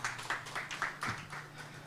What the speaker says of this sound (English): Another big round of applause to Sandra.